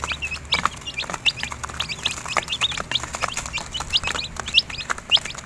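Several young chickens, one to three months old, cluck and chatter in a rooftop mini poultry pen in a steady, busy stream of short calls, fairly close, with occasional louder squawks and no talking.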